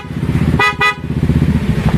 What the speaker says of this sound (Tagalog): Testing muna, busina.